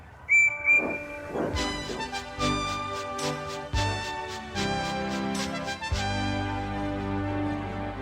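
A steam train whistle blows, then chuffing and hissing steam build as the engine starts off, with overlapping whistle tones continuing.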